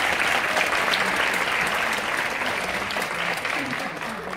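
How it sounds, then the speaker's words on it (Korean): An audience at a taekwondo demonstration team festival in an indoor concert hall claps in a dense, sustained burst of applause, loud and even, fading slightly toward the end. "한 박수 부탁드리겠습니다"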